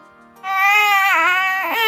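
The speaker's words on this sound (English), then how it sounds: "cry" A baby cries loudly and close by, one sustained wailing cry with a rising and falling pitch that starts after a brief quiet moment and carries on to the end.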